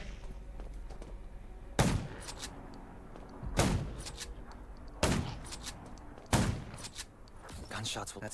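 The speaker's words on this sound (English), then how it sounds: "Gunshots." Gunshots in the zombie survival game Undawn: four loud, spaced single shots a second or two apart, each with a short reverberant tail, over a low background rumble.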